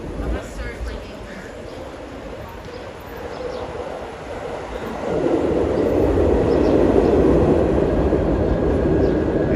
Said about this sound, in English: I hear the subway down beneath us.